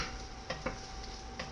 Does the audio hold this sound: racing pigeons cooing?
no